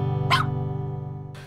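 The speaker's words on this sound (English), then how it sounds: "I'm going to teach Mac, the 9-year-old border collie who's never had any obedience training, how to stay." Nine-year-old border collie gives two short, sharp barks about a second apart, close and clear over a low steady hum, with no talking.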